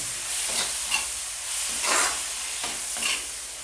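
Medium-sized onions, four or five of them, stirred and fried in a pan while cooking quail, giving a steady sizzle with soft scraping swells from the spoon roughly every second, close and moderately loud.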